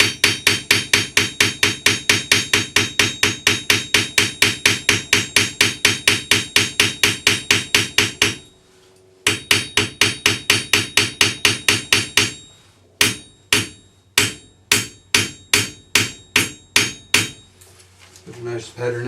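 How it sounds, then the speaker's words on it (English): Rapid, rhythmic hammer blows ringing on a metal sheet laid on an anvil for domed earrings, dozens of sharp evenly spaced strikes in close bursts separated by brief pauses, then slower, spaced single hits. "So I'm going to hammer with this, and then we'll cut a disc out of it. So just onto the anvil"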